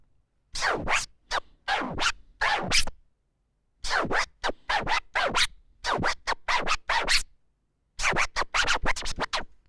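Autobahn scratch turntablism technique on a turntable, heard as crisp, rapid scratch strokes in three separated bursts, each a quick rhythmic run of sharp record cuts with brief silences between.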